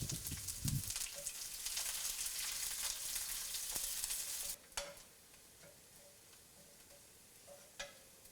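Small onions sautéing in hot oil in a pan for a moringa leaf and lentil thoran sizzle loudly and steadily, then drop to a quieter fry with occasional stirring scrapes.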